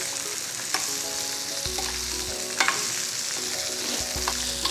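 Chopped onion and a couple of sprigs of curry leaves fry in a pan for peanut chutney, a steady loud sizzle with occasional stirring scrapes and clicks, heard alone without talk.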